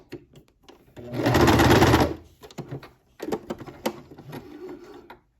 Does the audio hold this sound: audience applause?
no